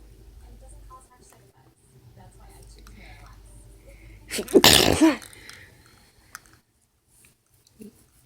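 A single loud sneeze bursts out near the mic after some quiet murmuring and shuffling, followed by near silence.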